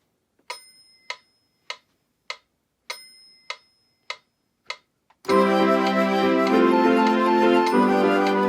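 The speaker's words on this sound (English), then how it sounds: "just press the metronome so you can keep in time and then start playing" Casio CT-X5000 keyboard metronome ticking: about eight sharp, evenly spaced clicks with an accented beat, close and clear, followed by loud full keyboard playing that takes over.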